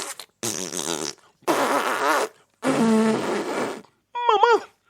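A voice imitates a fart during a Martinique folk tale: four drawn-out, buzzing raspberry blasts with brief pauses between them, loud and close, the last short and squeaky.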